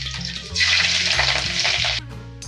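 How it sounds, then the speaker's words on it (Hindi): Chopped green chillies hit hot oil with browned cumin seeds for rajma, setting off a loud burst of sizzling that holds for about a second and a half before dropping away, with no talking. "तो मैं 3 हरी मिर्ची डाल रही हूँ, जिसको काट ली हूँ छोटा छोटा सा।"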